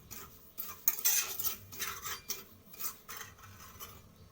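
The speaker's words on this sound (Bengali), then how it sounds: "পোস্তটা আমি দিয়ে দিলাম, এটাকে আমি একটু ভেজে নেব" Poppy seeds stirred and dry-roasted in a hot wok over low heat, a spatula scraping and rasping against the metal in a series of close, uneven strokes with faint crackle underneath.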